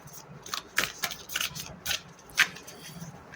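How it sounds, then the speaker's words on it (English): A tarot card deck being shuffled by hand, giving a run of soft, crisp riffling and snapping bursts close up, with faint low room noise and no talk over it. "I'm almost able to shuffle this deck now."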